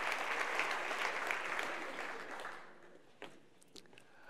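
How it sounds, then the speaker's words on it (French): An audience at a sustainable development forum claps for speakers invited on stage, a dense round of applause that gradually fades out, leaving a few scattered claps at the end. "On les applaudit."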